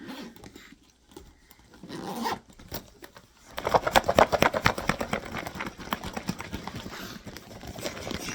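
A zipped bag holding raffle entries gets a short zip, then is shaken vigorously, giving a fast, loud rhythmic rattle of paper slips that carries on to the end with no voices.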